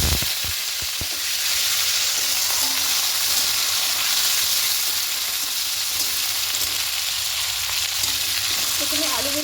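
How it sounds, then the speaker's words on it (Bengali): Potatoes fry in hot oil in a wok, with nigella seeds already tempered in the oil, giving a loud, continuous close sizzle and a few knocks of stirring near the start. "প্রথমে আলুগুলোকে একটু ভেজে নেব।"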